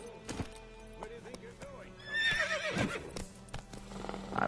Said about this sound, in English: I'm attempting to ride my horse, but my horse is being kind of a jackass